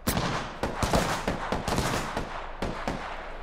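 Apex Legends gunfire: a rapid run of sharp close shots, some in quick bursts and some spaced apart, loud throughout the short span.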